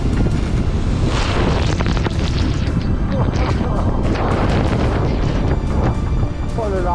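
Strong wind roars steadily over a sailboat crossing the Atlantic from Martinique toward the Azores, a loud, continuous buffeting rush with gusty bursts throughout.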